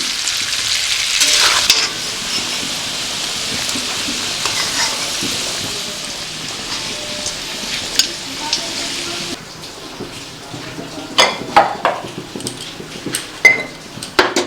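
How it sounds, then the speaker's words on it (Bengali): Large chunks of potato frying in oil with salt and turmeric for a mutton curry, a steady loud sizzle with scraping stir strokes that turn into sharper clatters toward the end. "নুন হলুদ আলুগুলোকে লাল লাল করে ভেজে নেব"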